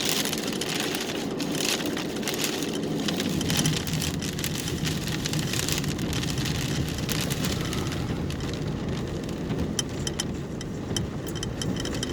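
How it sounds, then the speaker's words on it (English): Steady rain falling on a car late at night, a constant dense hiss and patter of drops on the body with a low rumble underneath, even and unbroken throughout. "It's not really raining god awful bad"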